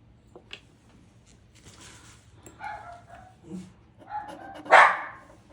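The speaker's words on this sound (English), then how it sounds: "Don't know what the dog's barking." A dog barks several times at a distance on a rural property, sharp yips and barks spaced irregularly, the loudest near the end, with soft low background noise and no speech.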